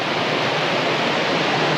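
River flowing alongside a long riverside walk on a rainy, overcast day, a steady close rush of moving water with no voices.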